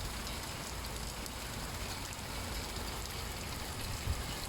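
Steady, dense rain pours down on a suburban backyard garden without a break, a constant hiss of drops striking the ground nearby, with no voices.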